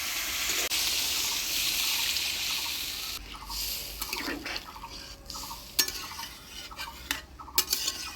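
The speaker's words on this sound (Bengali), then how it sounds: "এবার জল দিয়ে দিই।" Water goes into a pan of potato and cauliflower masala for a rohu fish curry, a steady hiss giving way to scraping stirs and scattered utensil clinks against the pot, close and clear with no talking.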